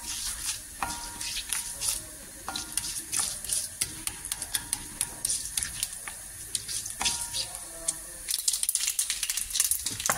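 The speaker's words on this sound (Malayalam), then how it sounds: "ഇനി നമ്മൾ അരിഞ്ഞ് വെച്ചിരിക്കുന്ന ഇഞ്ചി, പച്ചമുളക്, ക്യാരറ്റ്, സവാള, ബീൻസ്, കറിവേപ്പില, മുളക് എല്ലാം ഇട്ടു." Chopped ginger, green chili, carrot, onion, beans and curry leaves sizzle in a hot pan for an upma mix, a steady frying hiss broken by repeated scraping and stirring clatters up close.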